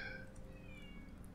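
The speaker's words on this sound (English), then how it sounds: "just sort out this whining cat" A whining cat in the video game Vintage Story gives a faint, drawn-out meow, thin and wavering, set low against a quiet room hum.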